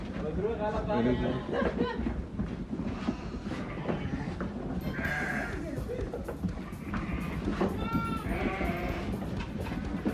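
Kivircik and Merino sheep on a farm let out several distinct bleats, spaced a few seconds apart, over a busy background of shuffling and farm noise.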